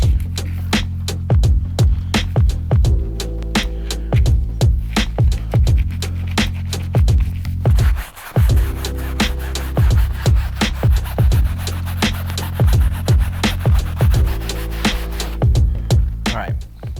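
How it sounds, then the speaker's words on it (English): A soft bristle brush scrubs a shoe insole in quick, repeated rubbing strokes, close and fairly loud, with a brief pause midway before the rhythmic scrubbing resumes. "for the insole, we'll use our soft bristle brush."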